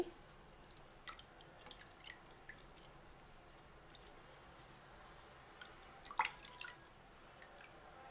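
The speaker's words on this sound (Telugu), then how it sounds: "ఈ విధంగా ఇడ్లీ రవ్వ మొత్తం ఇలా పిండుకొని పిండిలో వేసేసుకోండి." Handfuls of washed, soaked idli rava are squeezed out and dropped into idli batter, giving soft wet squishes and scattered drips, faint and close, with a brief cluster of splashes toward the end.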